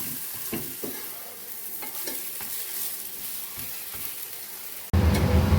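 A dosa fries in oil on a hot pan with a steady close sizzle and faint scraping strokes, then the pan noise jumps to a louder, denser hiss as the dosa is flipped near the end. No one speaks.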